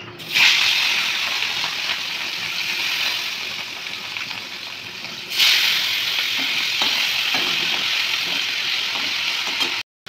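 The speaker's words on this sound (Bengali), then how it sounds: "মাছগুলো প্রায় ভাজা হয়ে গেছে" Pieces of catla fish frying in a pan give a steady, close sizzling hiss that fades slightly and then surges again midway, as if the fish were turned or stirred, then cuts off abruptly near the end.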